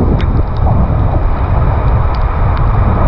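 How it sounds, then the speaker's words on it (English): Strong storm wind buffets the microphone in a steady, loud roar during heavy rain at a roadside stop on a motorcycle road trip in Thailand, with no talk. "It's getting super windy."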